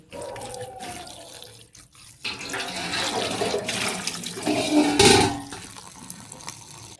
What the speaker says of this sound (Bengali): আমি এইভাবে 4-5 বার ধুয়ে নিয়েছি।